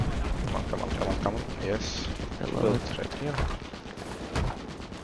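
Fedorov Avtomat rifle fire in the video game Enlisted, set in a Berlin assault at the Kroll Opera House, with dense gunfire and explosions filling the background while someone talks over it.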